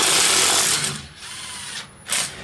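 Power tool whirring as it loosens the caliper slide pins on a Chevy Silverado K2500 front brake, a steady buzzing run that eases off, then a short second burst, close and loud.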